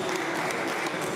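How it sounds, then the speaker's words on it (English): Fellow BMX riders at an X Games street competition clap and cheer from the background in a steady, brief burst of crowd applause. "I love hearing all the guys cheering him on in the background"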